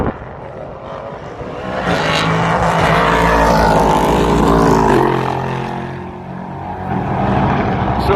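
A historic sports race car at Road Atlanta roars past at speed, engine note swelling loud as it nears, then fading, with another car's engine rising again at the end.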